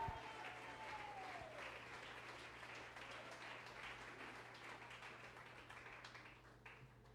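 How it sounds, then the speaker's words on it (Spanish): A church congregation applauding during a service, a steady wash of clapping that holds throughout and slowly fades toward the end, fairly distant, with a faint voice under it. "Dale un aplauso al Señor."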